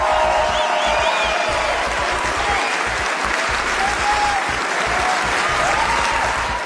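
A cinema audience at a Cannes film festival screening gives a standing ovation, dense sustained clapping filling the hall, loud and continuous, with faint crowd murmur and a few high voices mixed in.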